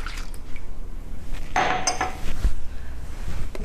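Warm milk, 600 ml, poured into a bowl while making dough for diplomata party snacks, a steady liquid splash with clinks of dishes and utensils in a kitchen, fairly close and without speech.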